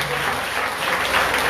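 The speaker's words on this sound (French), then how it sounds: "nous tous là applaudissons double" An audience at a family celebration claps, a brief, dense, even burst of applause from many hands without a break.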